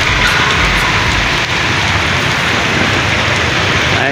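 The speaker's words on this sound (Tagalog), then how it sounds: "Ay po, napakalakas ng ulan." Heavy, steady downpour in Taguig City, a dense continuous hiss of rain pounding surfaces, loud and close, with no voices.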